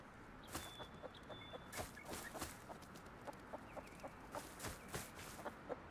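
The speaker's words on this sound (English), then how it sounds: "Chickens." Chickens in the survival game Rust cluck in repeated short, sharp bursts, fairly faint over a soft ambient background, with no talk.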